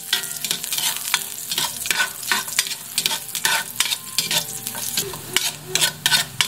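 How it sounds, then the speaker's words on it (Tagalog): Ginger sautéing in a pan sizzles steadily, with repeated scraping strokes from stirring that give it a loose, uneven rhythm, close and fairly loud, no voices. "Una nating gigisa itong luya"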